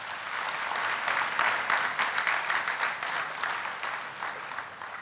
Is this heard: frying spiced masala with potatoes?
no